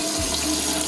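Cold water runs from a kitchen tap in a steady, hissing splash, close and continuous throughout the short moment.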